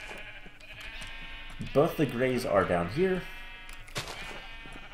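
Sheep on a sheep farm in a video game, several wavering bleats clustered in the middle, fairly close, with a person talking over and around them.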